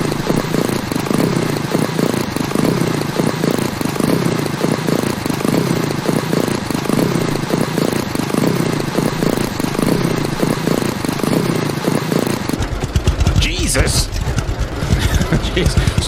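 Tractor engine in the Lumberjacks Dynasty video game, a steady loud chugging drone that runs throughout and shifts near the end, with a person talking over it.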